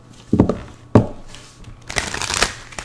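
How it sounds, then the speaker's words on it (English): Tarot cards are shuffled close up: two sharp riffling bursts, then a longer crisp flutter of cards being bridged and squared. "But to get a really good shuffle, I still kind of have to split it in half."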